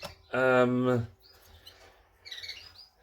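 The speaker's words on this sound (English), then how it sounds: "It's all kicked off in the bird room, so all chicks are being fed." Canary chicks cheep faintly in a bird room during feeding, soft high chirps scattered around a brief loud voiced note near the start.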